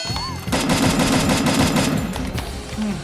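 Rapid automatic gunfire in a shooting video game, a loud close burst of fast repeated shots lasting about two seconds after a brief lull, with a short tail of further sound.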